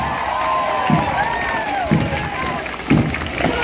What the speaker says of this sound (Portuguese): Vamos aplaudir a Piraca!